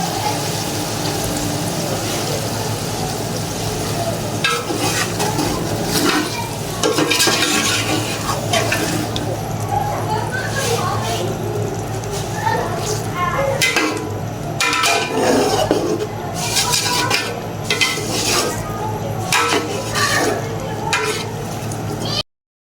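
Yogurt stirred into sizzling meat in a pot for white chicken pulao, a steady frying hiss with scraping stir strokes throughout, close and fairly loud, with no talking.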